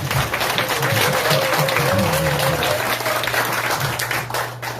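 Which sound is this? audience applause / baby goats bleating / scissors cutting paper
audience applause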